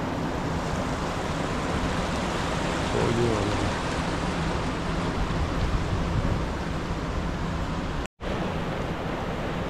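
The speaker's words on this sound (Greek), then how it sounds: "Ο Εδεσσαίος ποταμός τώρα πηγαίνει προς τον καταράκτη." The Edessaios river in Edessa, Greece, flowing toward the waterfall makes a loud, steady rushing wash that never lets up, close by, with a brief voice speaking near the end.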